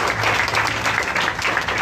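A church congregation claps at the close of a sermon, a lively, fairly loud burst of applause sustained throughout with a faint voice underneath.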